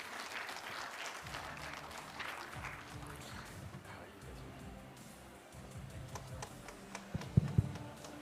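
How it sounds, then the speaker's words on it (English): Audience applause at a Putrajaya forum on social media and conflict, a sustained wash of many hands clapping in a large hall, moderately distant, with a few sharper claps near the end. "please give a big round of applause to our moderators and speakers."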